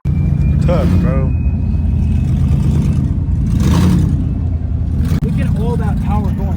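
Lamborghini Urus exhaust rumbling and revving loudly up close, a steady deep engine drone with swelling bursts, while people talk excitedly over it.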